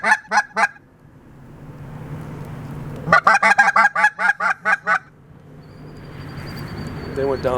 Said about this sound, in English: Right at last light, two honkers come over the ferry and look like they're gonna come right in.